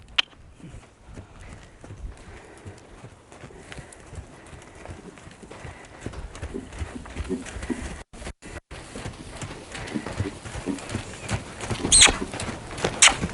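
A horse canters during a join-up groundwork session, its hooves giving a rhythmic, muffled drumming that grows louder toward the end, with brief talk and faint outdoor noise.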